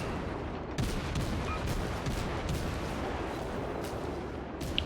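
Cruiser naval guns firing shells in the World of Warships game, a dense steady roar of distant booms and rumbling salvos with a few sharper cracks, no talking.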